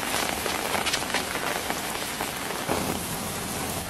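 Steady rain falls outside, a dense, continuous patter of drops striking surfaces, loud and close throughout with no voices.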